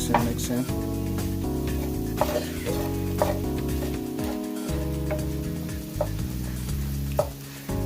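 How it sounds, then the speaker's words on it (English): Beyond Meat vegan taco filling being stirred in a hot pan, steady sizzling under scraping spoon strokes with a few knocks against the pan, while music plays throughout. "Just gotta mix it, keep mixing."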